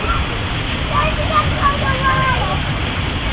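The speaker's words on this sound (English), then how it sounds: "this place is really nicely landscaped. And this is a good lazy river" Broadband rushing of water in a landscaped hotel lazy river, steady and close, with faint whistling or bird-like tones drifting over the wash.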